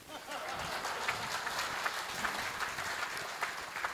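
Applause from an audience at a live Hindi comedy poetry show, a steady dense patter of many hands clapping at moderate loudness for a few seconds, with no talk over it.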